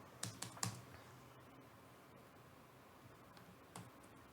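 Computer keyboard keys clatter in a few quick bursts of typing, then quiet, scattered clicks, faint and close by, with no talking during the clip.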